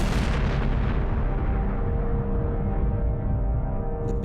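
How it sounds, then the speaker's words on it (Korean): A deep, roaring Big Bang explosion sound effect, loud and sustained, rumbling heavily at first and then slowly dulling as the brightness fades over several seconds, with no talking. "그럼 우주가 깨어나던 대폭발의 시점에서 이야기를 시작해보자."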